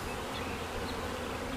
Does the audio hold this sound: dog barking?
no